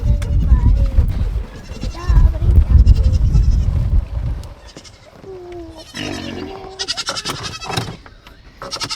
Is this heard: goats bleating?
yes